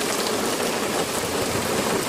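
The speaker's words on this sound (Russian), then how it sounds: "Да, но град, конечно, очень крупный." Heavy, large hail pelts down steadily in Stavropol, a dense continuous roar of hard pellets striking surfaces, loud and close without a break.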